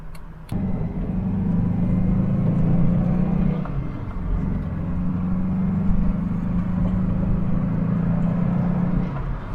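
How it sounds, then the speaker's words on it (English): A 1985 Subaru XT's flat-four boxer engine burbles steadily as the car drives uphill, a loud, close, low rumble that swells after a brief start and holds on through a slight dip midway. "I love that boxer burble."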